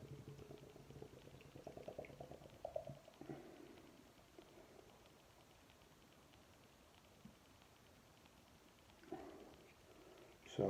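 Pale amber IPA from a cheap supermarket can poured roughly into a glass, a fizzing, bubbling liquid rush up close with gurgles that fade into a quieter foamy hiss.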